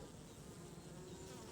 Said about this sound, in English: all the bees I see coming in,